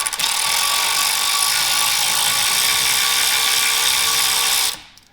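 A power ratchet or drill spinning out 10 mm bolts from a wire harness bracket on a Chevrolet Silverado with a 4.3 V6, one loud continuous whirring burst that stops abruptly near the end, close up.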